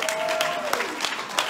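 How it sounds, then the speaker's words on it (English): Gala audience applauding a donation pledge during a charity auction, a dense, steady wash of many hands clapping with a few sharper bursts, filling the whole moment at close range. "you got to clap every time for every increment"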